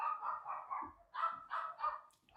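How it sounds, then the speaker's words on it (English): Neighborhood dogs bark in the background, a run of repeated, fairly close barks in two bursts with short pauses between. "this is the dog barking on the background because there are other dogs barking around the neighborhood"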